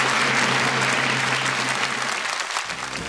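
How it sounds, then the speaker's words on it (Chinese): Studio audience on a variety show clapping loudly and continuously, a dense even wash of applause that tapers slightly toward the end, with a low musical hum underneath. "先拍拍手"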